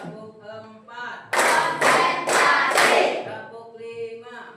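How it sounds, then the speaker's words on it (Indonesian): Four loud, evenly spaced hand claps counted out in a scout-style clapping drill, close by, with a voice talking before and after them. "Tepuk 1, tepuk 2, tepuk 3, tepuk 4,"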